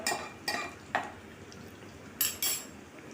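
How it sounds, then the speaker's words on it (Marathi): A spoon stirs turmeric into garlic tempering in a pan, making about five sharp scraping clinks against the metal at an irregular pace over a faint background sizzle. "इथे थोडीशी हळद टाकली आणि आता असं घाटून घ्यायचं थोडंसं"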